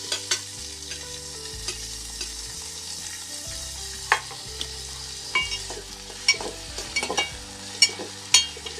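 Tomatoes go into a hot frying pan for a Maharashtrian golamba (dried fish) dish and are stirred, giving a steady close sizzle with repeated scraping and clinking strokes of the spoon against the pan.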